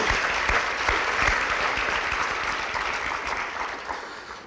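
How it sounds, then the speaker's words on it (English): An audience at a high school commencement for the class of 2019 gives sustained, dense clapping that holds steady and then slowly tapers off, with no voices over it. "Let's give them another round of applause."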